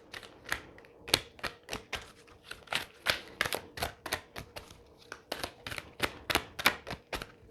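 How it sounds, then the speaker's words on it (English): Slippery oracle cards are shuffled by hand in a quiet room, a close series of sharp, irregular riffling snaps and slaps spread over several seconds with no talking. "it's hard to shuffle them without like them flying out all over the place"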